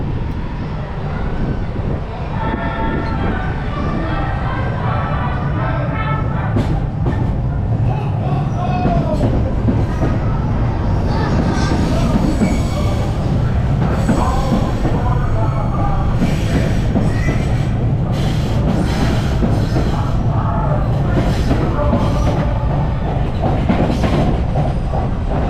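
A Chicago holiday train rumbles steadily past Cermak Chinatown station on the elevated line, a loud continuous roar of wheels and cars with faint squeals and clatter, close and sustained throughout.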